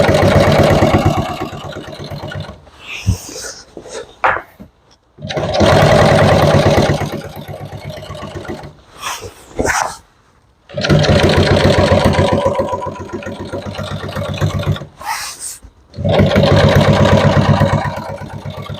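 A sewing machine runs in long bursts while stitching a large cover, a loud close mechanical whir that stops and restarts several times with short quiet gaps between runs.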